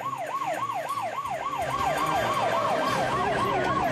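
A fire engine siren wails in fast, repeating rising-and-falling cycles at an airplane fire, loud and close over rumbling vehicle noise.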